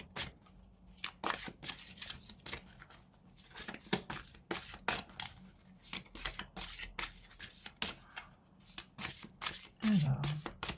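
Oracle cards shuffled for a unicorn-themed tarot guidance reading: rapid, close riffling and flicking in dense bursts throughout, with brief pauses, loud and crisp, and a short bit of speech near the end.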